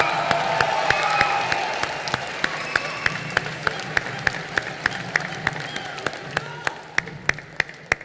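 Crowd applause for Chiranjeevi at the International Film Festival of India closing ceremony in Goa, loud clapping with a few sharp individual claps standing out, fading gradually while voices and amplified sound carry underneath.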